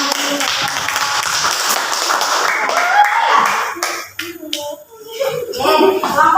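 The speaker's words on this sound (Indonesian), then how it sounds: "Oke, tepuk tangan dulu." A room of students in an Indonesian classroom lesson clap together for a group, a dense patter of hands for about three seconds before it thins out into quieter shuffling and scattered voices.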